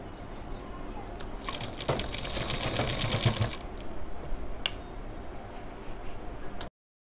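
Electric sewing machine stitching a fabric strip for a kurti's back zip, a steady fast needle rattle that runs continuously for several seconds and then eases, close and moderately quiet, with no one speaking.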